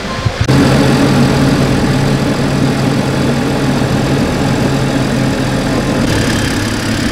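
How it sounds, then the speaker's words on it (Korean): A BMW F10 528i with a slight oil leak cranks and catches, then settles into a steady, close idle with a low even hum. "일단 시동을 한번 걸어보겠습니다."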